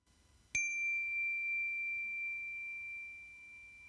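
Meditation chime struck once, a bright clear ring that sustains and slowly decays for several seconds in a quiet room, with no voices.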